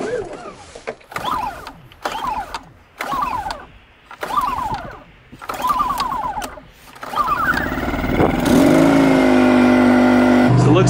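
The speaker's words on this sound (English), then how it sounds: "So let's start the generator." A small engine generator is cranked in several quick pulls before it catches and settles into a loud, steady, close running drone, with a person talking between the pulls.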